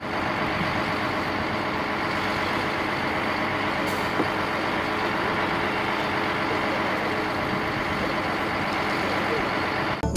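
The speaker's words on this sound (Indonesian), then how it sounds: "di sini ada mobil molen." A cement mixer truck runs nearby, its engine giving a steady, loud, droning rumble that holds unbroken for the whole stretch, with a brief sharp click or hiss partway through.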